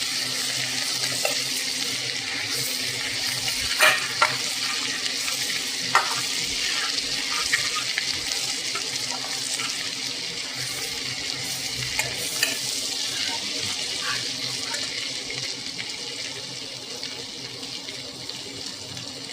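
Ginger garlic paste frying and being stirred in a pan for pav bhaji, a steady sizzle running throughout with occasional scrapes and clinks of the spoon, close and alone with no talking.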